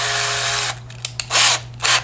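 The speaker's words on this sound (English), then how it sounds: "Okay, so I've got a bigger drill bit." A power drill fitted with a larger bit bores into a plastic mount, giving a short, loud whir that cuts off after under a second, followed by scattered clicks and brief hissy bursts over a low steady hum.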